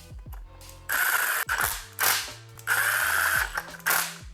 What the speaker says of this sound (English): I'm gonna go ahead and tighten these bolts down.